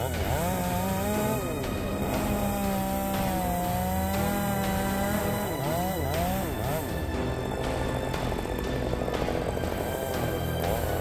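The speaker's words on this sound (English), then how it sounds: "The Echo 800P chainsaw is specifically manufactured to cut large and thick woods like this." Echo 800P chainsaw cutting through large, thick wood, a loud continuous high-pitched engine whine rising and falling as it bites into the log, close and unbroken throughout.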